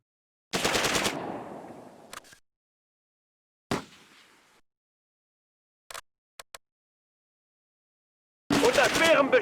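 Gunfire from the World War II strategy game Close Combat: A Bridge Too Far: a loud rattling machine-gun burst opens, followed by a single sharp shot, two or three quick clipped pops, and a final heavy burst of fire.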